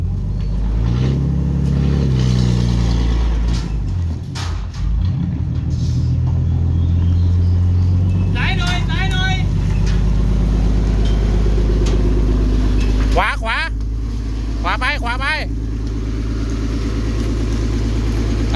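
A car's engine rumbles steadily at low revs in reverse as it backs through a narrow, low-roofed entrance, with brief voices calling out partway through.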